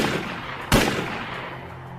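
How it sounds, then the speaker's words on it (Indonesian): A single sharp gunshot cracks out over a steady rushing background noise, followed by a fading tail. "Akhirnya Suro melakukan tembakan ke arah sepatu merah"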